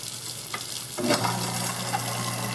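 A kitchen faucet runs over a farmer's sink while someone checks for hot water. It makes a steady, close rushing hiss that holds an even level from start to finish, with a slight surge just after the first second.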